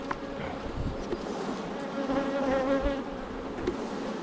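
Honeybees buzz around an open hive frame during a queen introduction, a dense, wavering hum of many wings close by with no voices.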